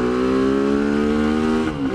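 A Tianda TDR300 motorcycle engine revs loud and close with a steady buzzing hum, then dips briefly at the end.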